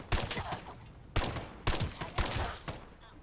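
Gunfire in Fallout 4, five or six sharp close shots spaced irregularly across a few seconds, each with a short echoing tail.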